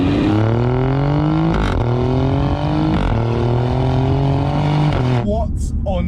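An Alfa Romeo in dynamic mode with manual gear selection accelerates hard, its engine note rising loud and close through several upshifts before easing off near the end.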